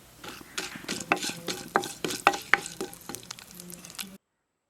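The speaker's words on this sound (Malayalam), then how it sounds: "ഇനി 1 ടീസ്പൂൺ പരിപ്പും 1 നുള്ള് ഉലുവയും ചേർത്ത് കൊടുക്കുക. ജസ്റ്റ് ഒന്ന് മൂപ്പിച്ചെടുക്കുക." Toor dal and fenugreek seeds roast in hot oil while being stirred in a pan for tomato chutney, a close, busy sizzle punctuated by sharp scraping and clinking strokes of the spoon, fading out near the end.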